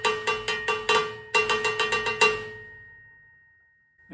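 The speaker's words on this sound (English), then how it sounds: "My cowbell" A cowbell struck by hand in a quick run of metallic, ringing hits, two bursts of several strikes each, fairly loud and close, then left to ring out and fade with no talking.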